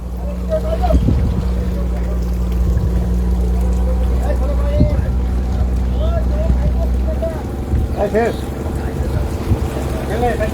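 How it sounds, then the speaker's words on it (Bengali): Low, steady engine drone of a fishing trawler close by, arriving with its catch at Digha Mohana fish market, with wind buffeting and voices talking over it. "ট্রলার থেকে মাছ নিয়ে আসছে"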